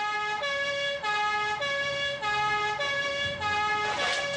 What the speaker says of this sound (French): Actionne un peu la sirène pour voir.